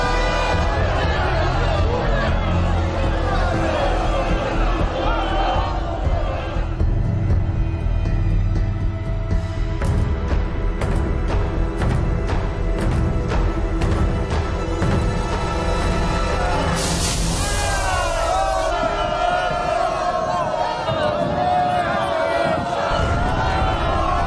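A loud crowd of protesters in the street, with a dense babble of shouting voices and chanting that continues the whole way through. Someone narrates over the crowd in Russian, and later a burst of hiss and clatter cuts in.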